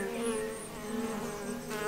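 Solitary bees buzz steadily in a garden, a continuous close insect drone with wavering tone running the whole time, with no voices.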